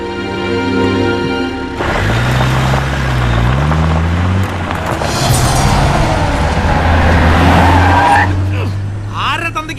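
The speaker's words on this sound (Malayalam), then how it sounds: "നീ വണ്ടി എടുക്കടാ" A car pulls away with tires skidding and squealing, the engine revving loudly up close, with a brief voice near the start.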